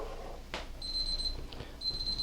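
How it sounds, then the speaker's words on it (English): A kitchen timer going off while biscuits bake: a thin, high electronic beeping sounds in two bursts over faint room noise, with a soft clunk just before it. "My timer's about to go off for my biscuits."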